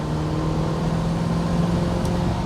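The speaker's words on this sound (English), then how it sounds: "And just have a listen to that engine." A 1968 Ford Mustang GT 390 Fastback V8 runs at a steady, loud, rumbling idle close by, a constant deep drone with no revving.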